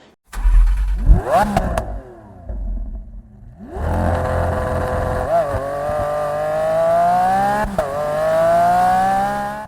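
A Lamborghini Aventador Ultimae's 780-horsepower naturally aspirated engine roars up through its revs in a long rising pitch, dips after a short pause, then climbs again, loud and close.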